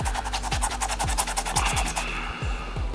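A shoe eraser scrubbed hard across a sneaker midsole gives a loud, steady rasping rub with rhythmic back-and-forth strokes, close up and without talk.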